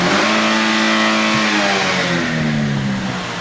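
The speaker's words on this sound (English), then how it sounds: "one quick red line just to make sure it's nice and warmed up here" A car engine revs hard toward redline to warm the oil, a loud, sustained rising then falling roar with no one speaking over it.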